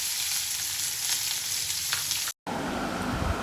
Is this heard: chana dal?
yes